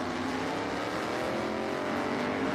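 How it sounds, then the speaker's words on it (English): Can-Am race cars circle a track at the 2023 Velocity Invitational, a dense continuous engine roar with steady loudness throughout and no speech. "5 laps to go then, and a great collection of Can-Am cars."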